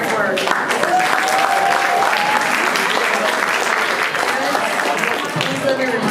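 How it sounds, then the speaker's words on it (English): An audience at a school band's winter concert applauding in a loud, sustained round of clapping, dense and continuous from start to finish. "another round of applause to show our gratitude for all their hard work."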